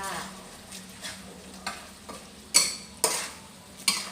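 Curry paste stir-fried with chillies, garlic and kaffir lime leaves scraped around a pan, with a series of clanking utensil strokes growing louder over a soft sizzle, each stroke spaced about half a second apart.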